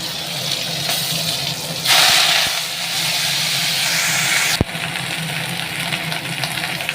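Green chillies and coriander leaves fry in oil in a wok, a loud, continuous hissing sizzle close by that surges in the middle, with a sharp clatter partway through and no talking.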